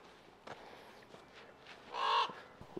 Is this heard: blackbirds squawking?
yes